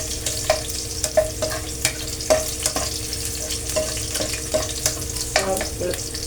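Garlic fries in hot oil for gobi manchurian with a steady sizzle, broken by occasional stirring clicks and spatters at close range, and no talking.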